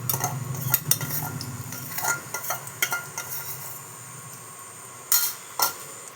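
Semolina soaked in milk is stirred into hot ghee in a pan for a sweet suji dish, with scraping spoon strokes and light clinks in irregular bursts over a faint background hiss, and no voices.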